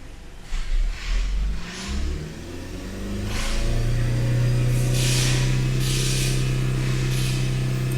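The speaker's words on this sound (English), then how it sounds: "Okay, so now I'm just gonna raise the RPM." Hyundai Santa Fe engine idling roughly and then revving up, settling into a sustained higher-RPM drone that stays loud and close with no talking, while the oxygen sensors are being checked.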